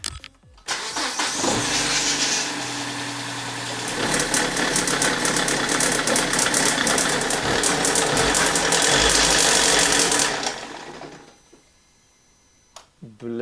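A BMW E87 engine runs rough with heavy knocking, loud and close, as a continuous harsh mechanical clatter that swells and then cuts off near the end, leaving near silence.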